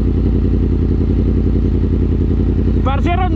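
A Yamaha MT-10 motorcycle engine runs at a steady, loud, even throb throughout, with a brief voice cutting in near the end.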